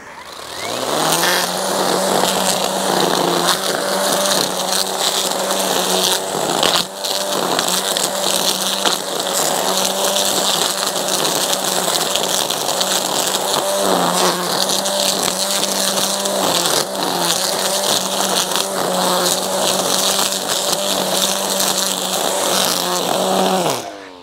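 A Litheli U20 battery-powered lawn mower runs on high speed through grass grown four to five weeks, a loud, steady whine with a constant tone throughout, close and uninterrupted.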